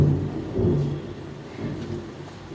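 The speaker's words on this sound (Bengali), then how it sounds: "বৃষ্টি হচ্ছে, প্রচণ্ড বৃষ্টি হচ্ছে বাইরে" Thunder rolls outside during heavy rain, a deep, muffled rumble that swells early on and then fades to a lower continuous grumble, heard from indoors with no talking.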